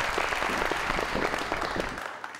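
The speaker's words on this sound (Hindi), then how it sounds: "बहुत सारी तालियां।" A studio audience on a talk show claps in a dense, steady burst that stays loud for about two seconds, then thins and fades out.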